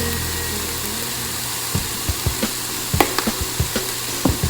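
Vegetables sautéing in a pan with oil, a steady close sizzle with scattered clicks and taps of stirring layered over it.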